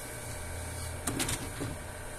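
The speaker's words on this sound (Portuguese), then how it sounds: "A impressora entrou em processo de calibrar as cores" An HP Color LaserJet Pro MFP M177fw printer calibrating its colors gives a faint steady mechanical whir, with a short burst of clicking and rattling midway through, and no talk.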